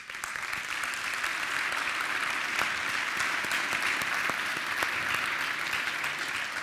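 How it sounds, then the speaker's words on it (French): A conference audience applauds after a talk on GraphQL, a dense, even clapping from many hands that holds steady and close for several seconds. "Moi j'ai utilisé mes deux mains pour applaudir."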